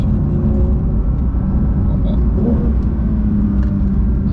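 A Porsche 911 GT3 (992) engine hums steadily at close range, a low continuous rumble with mild revving swells, while a voice speaks briefly over it.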